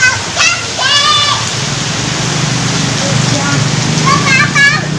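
Steady heavy rain pours outdoors with a dense, loud hiss, while voices talk over it in several short bursts.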